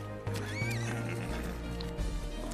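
Horse neighing in the animated film Spirit: Stallion of the Cimarron, a loud whinny over a music score with hoofbeat clip-clops, close and clear.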